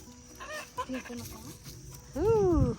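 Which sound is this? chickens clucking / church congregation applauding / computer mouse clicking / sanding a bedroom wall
chickens clucking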